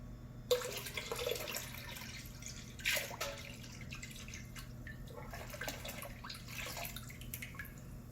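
Yeast liquid pours and trickles into a beer fermenter, with splashing and dripping sounds over a low steady hum, no voices.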